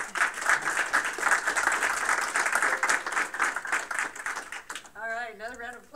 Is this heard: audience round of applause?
yes